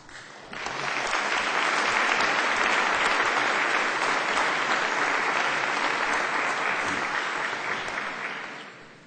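Audience at a university ROTC commissioning ceremony for new Air Force lieutenants breaks into full, sustained applause that swells quickly, holds steady for several seconds, then fades out.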